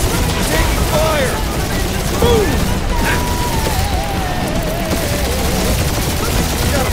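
Dense gunfire in the Guardians of the Galaxy video game, rapid overlapping shots and bursts crackling continuously under a busy mix of effects and sweeping tones, with voices speaking over the battle.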